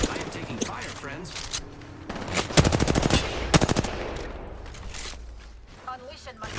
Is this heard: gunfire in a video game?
yes